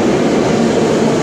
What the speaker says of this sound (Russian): Сегодня поезд выезжает из-под оборота на станции Ховрино с Москворецкой линии.